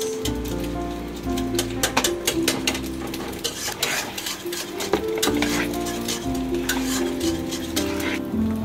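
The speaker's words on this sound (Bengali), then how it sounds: "এটা এখন ভালোভাবে মিশিয়ে নিব। দিয়ে দিব এখানে আমি ম্যাগি সস।" Korean-style chow mein is stirred in a pan with Maggi sauce, giving a busy, steady sizzle and frying hiss. Metal utensils clatter repeatedly against the pan throughout.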